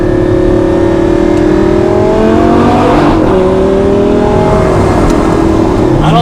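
Lamborghini engine revving hard while driving, a loud close roar climbing in pitch through the gears with a brief dip at a shift, dense and continuous throughout.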